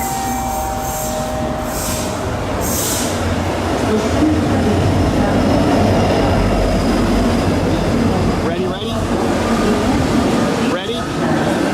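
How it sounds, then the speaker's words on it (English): A train rumbles loudly and continuously nearby, with a steady mechanical drone and brief squealing near the end. "So I think this is our train."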